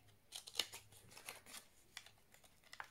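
Scissors cut steadily around the edge of a piece of material, a string of quiet, close snips in an irregular rhythm with no talking.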